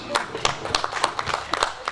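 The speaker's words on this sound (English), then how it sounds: "A big round of applause for our presenters, our panelists, and our able chairman over there." An audience at a university research-week high-level dialogue session claps for its presenters and panelists, with a quick, uneven run of close claps filling the moment.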